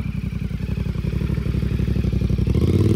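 An FB Mondial Piega naked sport motorcycle idling close by, a loud, throbbing engine pulse with rapid regular firing beats and a slight mechanical clatter, rising a little in pitch near the end as if blipped.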